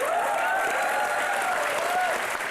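A studio audience on an Indian TV comedy show, Comedy Nights Bachao, breaks into loud, steady applause that fills the whole moment, with a faint tonal wail running underneath.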